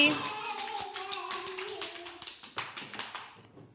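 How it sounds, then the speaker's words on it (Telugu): Children clap for a classmate during a game at an anganwadi preschool, a run of uneven hand claps over a few seconds. A teacher's voice and young voices are heard in the background. "క్లాప్స్ కొట్టండి అన్వికాకి"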